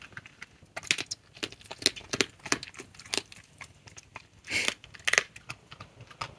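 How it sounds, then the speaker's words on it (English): Irregular wet crunching and snapping of a fox chewing chicken, close and fairly quiet, with scattered sharper crackles. "he made some great chewing sounds"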